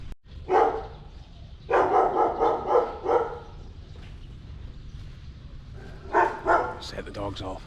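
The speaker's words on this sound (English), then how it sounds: "Set the dogs off." Dogs at an abandoned place in Vietnam bark in a few bursts, several quick barks together, then a pause and another volley, fairly close over a quiet background.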